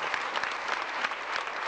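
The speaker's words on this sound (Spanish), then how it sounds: "Fuerte el aplauso." A church congregation applauds steadily and loudly throughout, a dense wash of hand claps at even intensity from start to finish with no voices above it.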